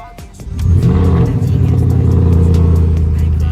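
A modified 700 hp Porsche Panamera Turbo fires up, a brief starter whir giving way to a loud, steady idle with a deep rumble that settles and holds close by, with a voice faintly present.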